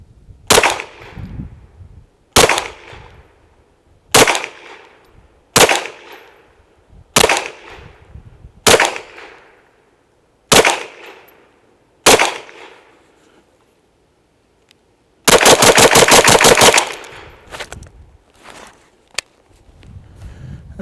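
A KelTec SUB-2000 Gen 2 9mm carbine fires loud, close single shots roughly every two seconds, then unleashes a fast rapid-fire string before a few more scattered shots, with no talking.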